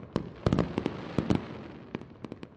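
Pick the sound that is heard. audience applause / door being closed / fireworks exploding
fireworks exploding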